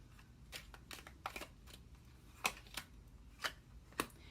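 Tarot cards being shuffled and drawn during a reading: a run of crisp, close papery flicks and slaps in irregular bursts, a few sharper snaps standing out, with no talking.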